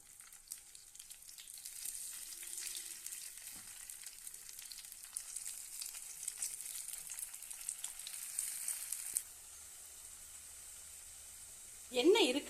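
Sliced radish (mullangi) frying in hot oil in a pan for a masala fry, a steady soft sizzle and hiss that runs for most of the clip, then drops lower with a brief louder stir or clatter near the end.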